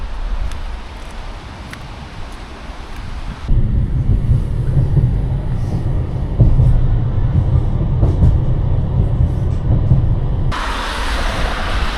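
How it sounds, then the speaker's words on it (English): A tram ride in Munich gives a loud, continuous rumble of rail wheels and car motion from inside, with a bright rushing surge near the end and no talking. "jump on a tram to try and get to where I'm going."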